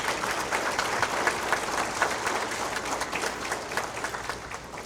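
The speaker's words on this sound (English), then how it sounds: "A round of applause, please." Gala audience at a centennial celebration breaks into steady applause, many hands clapping evenly at a constant level for several seconds.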